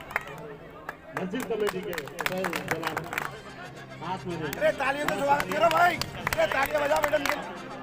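Crowd at a municipal inauguration event clapping in welcome for officials, scattered sharp claps mixed with lively chatter and voices nearby.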